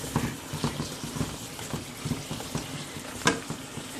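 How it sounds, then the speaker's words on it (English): Ground pork and basil stir-frying in a pan, a soft steady sizzle broken by rhythmic scraping and clacking strokes of a utensil at roughly half-second intervals, close and fairly quiet. "stir everything together just until your basil is kind of, you know, die down a little bit"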